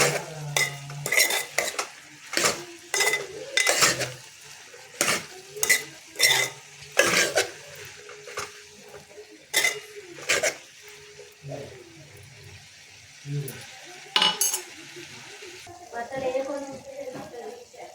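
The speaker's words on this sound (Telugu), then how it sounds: "ఇప్పుడు ఉప్పు టమాటా వేసిన కదా ఒకసారి కలిపి మూత పెట్టుకోవాలి." A spoon repeatedly scrapes and clanks against a pot while bottle gourd curry with salt and tomato is stirred, producing sharp rhythmic metallic knocks over a faint sizzle, with a voice speaking near the end.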